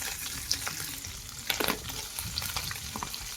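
String beans (sitaw) sauté in a hot pan for a Filipino vegetable dish, a continuous crackling sizzle with sharper spatters and the scrape of stirring.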